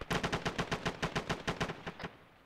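A rapid burst of about fifteen evenly spaced heavy cannon shots from an aircraft gun run in a video game, loud and punchy, then fading into quiet.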